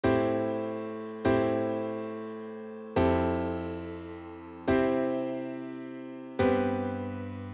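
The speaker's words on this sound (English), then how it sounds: "I will be using these chords and they sound like this." Five big sustained synth chords for a future bass drop, each struck and left to decay before the next, lush and harmonically rich, playing alone without any voice.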